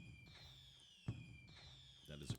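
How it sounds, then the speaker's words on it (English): Fireworks going off in the online game Quinfall: a sustained high whistling whine with two sharp bursts and crackles about a second apart, moderately loud, with a faint voice low underneath. "And then there's fireworks in the game."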